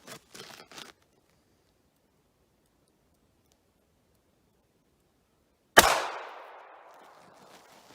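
A single sharp gunshot from a .380 pistol firing 90-grain Hornady Critical Defense into an American Gunner cloth barrier cracks out after several seconds of near silence, ringing briefly as it decays, with a few faint clicks at the start.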